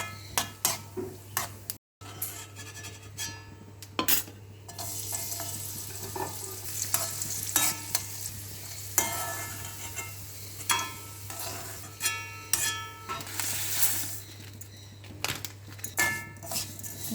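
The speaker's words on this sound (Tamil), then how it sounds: "நம்ம கொஞ்சம் நெய் சேர்த்து இது எல்லாத்தையும் வறுத்து எடுத்து வச்சுக்கலாம்" Ingredients for a kadala paruppu, javarisi and semiya payasam roast in ghee in a pan, with steady frying sizzle and frequent scraping, clinking spoon strokes against the metal throughout, close and fairly loud, with no talking.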